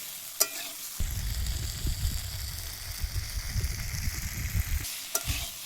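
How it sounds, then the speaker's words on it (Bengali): Chopped tomatoes sautéing in spices in a pan for a light fish curry with kohlrabi, giving a steady close sizzle and crackle with a few sharp stirring clicks at the start and end, no voices. "টমেটোটা দিয়ে বেশিক্ষণ আর কষাবো না, একটু হালকা করে কষিয়েই জল দিয়ে দেবো।"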